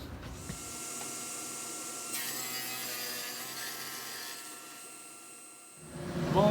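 A chop saw cuts through a 3/4-inch MDF board, a steady whining buzz held for several seconds at close range before the blade spins down near the end.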